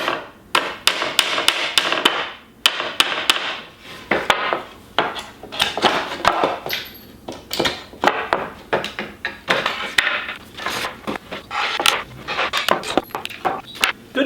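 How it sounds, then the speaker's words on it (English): Rusted nails are hammered out of pallet wood, with the pallet itself used as a backer: a long run of sharp, irregular metal-on-wood strikes, loud and close, with brief pauses between bursts. "use the pallet itself to act as a backer so that I can get the nails out"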